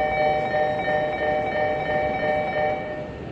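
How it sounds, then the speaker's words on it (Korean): A subway train pulls into a station, a loud steady rumble with a sustained high tonal whine from the motors, swelling and holding for a few seconds before easing slightly. "지금 들어오는 열차는"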